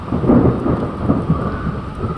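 Deep rumbling thunder rolls beneath a dense wash of heavy rain in Surat, loud and continuous.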